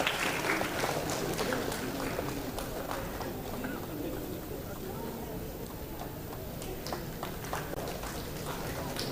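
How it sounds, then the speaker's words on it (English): Ongoing applause from the audience at a management institute convocation as graduates are named, a sparse, uneven clatter of hands that sounds fairly distant and thin, with background chatter beneath. "Round of applause should be continued."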